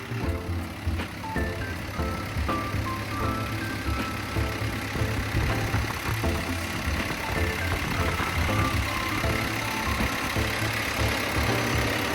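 A Kobelco SK200-8 20-ton excavator's heavy diesel engine idles steadily up close, a continuous low rumble with a faint rhythmic knock, running evenly throughout with no talking.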